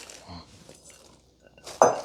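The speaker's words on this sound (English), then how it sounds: "And we're just going to stir all that up." A utensil stirs green beans and broccoli florets into curry pork in a pan, giving a few soft scraping clinks followed by one sharp metallic knock near the end, with no one speaking.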